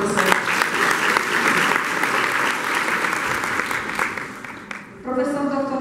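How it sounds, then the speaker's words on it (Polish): Audience applause for a professor at a school's 70th anniversary ceremony in Kcynia, a dense, loud wash of clapping that holds steady, dips briefly near the end, then swells again with a voice starting over it. "Brawa dla profesora."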